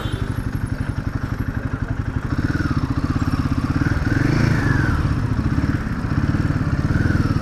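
A Royal Enfield Himalayan 450 motorcycle idles and putters close by through slow U-turns, its steady low thumping engine rising slightly with gentle throttle blips.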